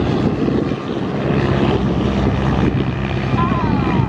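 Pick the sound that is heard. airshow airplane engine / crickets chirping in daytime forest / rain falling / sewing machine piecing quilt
airshow airplane engine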